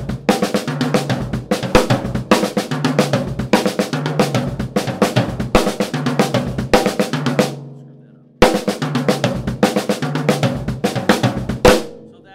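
Rapid sixteenth-note triplet drum fills in groups of nine and six on snare and toms, with a short pause before the busy drumming resumes.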